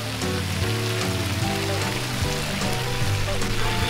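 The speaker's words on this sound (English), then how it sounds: "Some rain." Rain falling at a beach RV resort in Galveston, Texas, a steady close patter over a layer of low, sustained tonal sound, fairly loud throughout.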